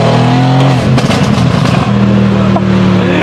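An 801 hp sleeper car accelerates hard, its engine roaring loud and close with climbing tones that dip at a shift and rise again.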